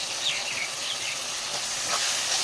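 Tomato pieces hit frying onions in a pan for a flat bean and tomato curry, giving a steady, broad sizzling hiss that holds throughout with no talk.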